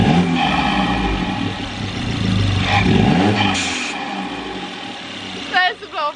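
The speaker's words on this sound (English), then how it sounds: "I think we should start the car, give it a little rev." An Audi A1 fitted with an induction kit revs up and down loudly nearby, engine rising and falling in pitch before settling, with a person speaking briefly near the end.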